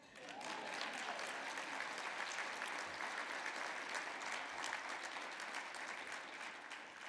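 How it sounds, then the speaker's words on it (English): Steady audience applause at a keynote address, a dense wash of clapping held at even loudness throughout with no voices over it. "That is worth your applause."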